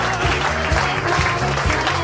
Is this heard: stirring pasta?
no